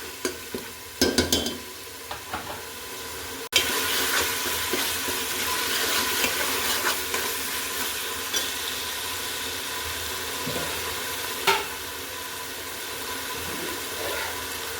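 Chicken pulao ingredients sautéing in a pot: a few knocks and clatters of utensils at first, then a steady close sizzle with scraping stirs and scattered pops, moderately quiet and free of speech.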